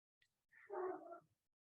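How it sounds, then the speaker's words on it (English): Dogs barking indoors, heard as one short, muffled bark burst that sounds faint and distant, with no talking over it. "I have dogs that normally don't bark except for tonight"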